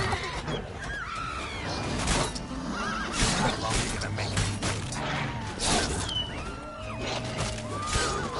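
Roach, the horse in Witcher 3, neighs and whinnies several times amid hoofbeats and game action, with someone talking over parts of it.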